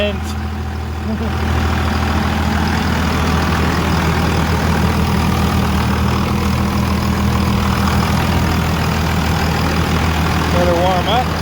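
A Cummins diesel truck engine idles loud and steady right after a cold start, a deep continuous rumble that runs throughout while someone talks over it.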